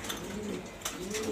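Light-coloured Mili pigeons coo softly in a brief murmur of low calls, faint and close, with a little rustling behind them.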